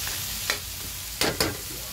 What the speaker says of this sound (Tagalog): Ihalo na natin yung karne.